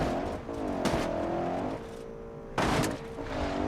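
Car racing fast over rough off-road terrain, its engine droning and shifting pitch as it revs, with two sudden loud bursts of rattling, crashing noise from bumps or splashes.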